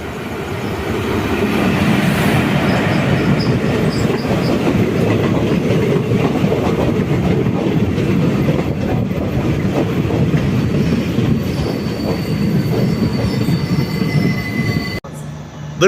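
An express train on the Tirunelveli–Mettupalayam route runs steadily along the rails, a continuous loud rumble with rolling wheel clatter and faint squeals throughout, no voices.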